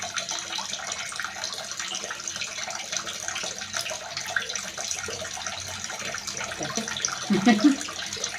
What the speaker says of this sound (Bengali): মাছটা আমি ভালো করে ধুয়ে নেবো